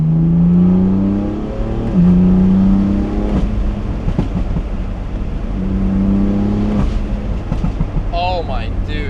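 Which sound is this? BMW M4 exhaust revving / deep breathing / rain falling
BMW M4 exhaust revving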